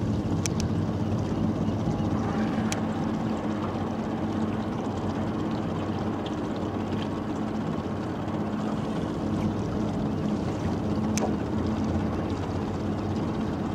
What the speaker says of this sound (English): Oh, look, it's moving. That's the tugboat.